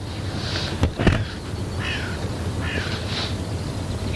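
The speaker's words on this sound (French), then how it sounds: "Écoutez ces oiseaux, écoutez." Birds call outdoors with a few short, harsh crow-like caws over steady background noise. The calls are moderately distant and separated by gaps.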